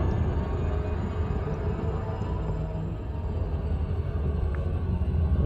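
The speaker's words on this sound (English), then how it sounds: "Frameshift drive charging." A starship's frameshift drive charges in Elite Dangerous, a dense, continuous low rumble with a faint high whine held above it. The sound stays fairly loud and steady throughout.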